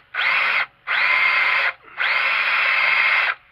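A power drill bores a hole in a Leyland clutch pedal in three loud, close bursts, the last one longest, with short pauses between them and no talking.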